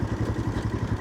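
A passing vehicle, probably a motorcycle, on a deep forest road: a close, loud engine with a rapid, regular pulsing throb over a short one-second span, with no talking.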